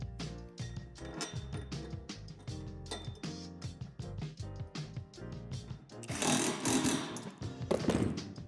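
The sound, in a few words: drilling plastic barrier indentations with a 3/8 drill bit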